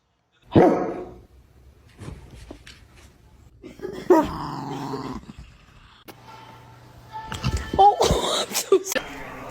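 A dog barks and growls in loud, intermittent bursts as a person pranks it by barking back in imitation, with short yips and whimpers between the louder outbursts over several seconds.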